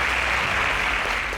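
Audience applause for a quiz contestant after scores are announced on a competition show, a steady dense wash of clapping filling the short moment without a break.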